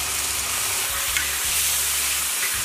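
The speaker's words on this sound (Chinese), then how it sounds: "肉片爆锅" Meat slices sizzling in hot oil in a wok with Sichuan pepper powder, scallion, ginger, garlic and star anise, a steady loud frying hiss with light stirring and scraping, no voices.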